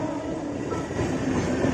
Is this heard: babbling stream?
no